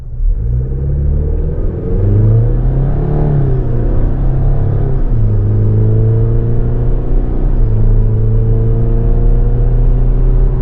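The turbo four-cylinder engine of a 2024 Chevrolet Colorado LT 4x4 pickup pulls hard under acceleration, a loud close cabin drone whose pitch climbs and drops through gear shifts, with no talking.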